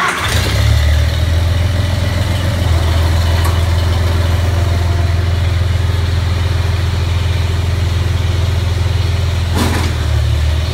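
A heavy tractor engine idles steadily up close, a low constant rumble with a couple of brief clanks, no talking.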